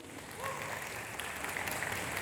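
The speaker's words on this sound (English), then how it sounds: "Yes, that deserves an applause." Audience applause at a panel talk on improv with actors, soft at first, then swelling into steady clapping that holds for a couple of seconds at moderate distance.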